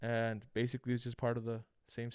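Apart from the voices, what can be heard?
No everyday noises stand out.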